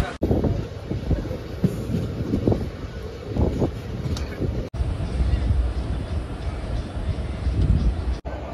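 The Diva–Ratnagiri 50103 passenger train rolls past at a station platform, a loud, steady rumble with rail clatter close by, carrying on without a break from start to finish.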